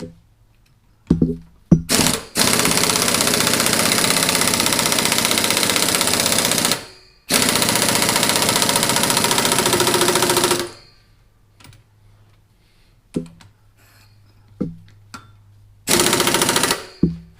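A 2003 Sea-Doo RXDI personal watercraft engine running loud and close in long sustained bursts, cutting off twice into near silence with faint clicks before firing up again briefly at the end.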